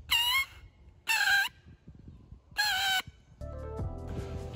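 A person's voice imitates the call of a park bird seen in Moscow, giving three loud, harmonic, squawking cries with pauses between them, followed by softer, warbling sounds.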